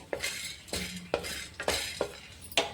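Chana dal dry-roasting in a pan without oil for coconut chutney, with a spoon scraping and clinking against the metal in sharp strokes roughly every half second over a faint rustle, close by with no voices.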